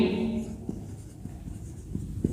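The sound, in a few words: writing a chemical formula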